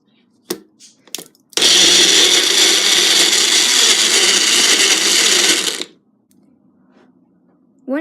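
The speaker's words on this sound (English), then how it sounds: "Once you've blended up your juice" A countertop blender whirs loudly for about four seconds, blending mango and orange juice, after a few clicks and knocks as the jar is set in place; it then cuts off to quiet.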